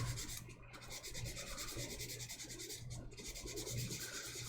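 A piece is sanded by hand with steady, continuous rubbing strokes, close and even throughout, over a faint low hum, with no talking.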